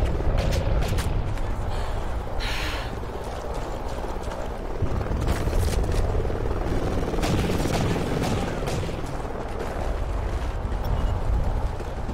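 A friendly helicopter in the Call of Duty Ghosts video game whirs with a steady rotor chop that runs under busy gunfire and other game noise throughout.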